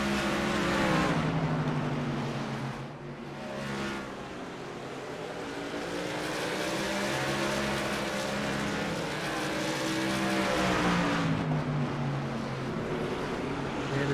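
Racing trucks roar around a track in a sim racing game, a steady layered engine drone with shifting pitch from several vehicles passing close and loud, continuous throughout with no talk.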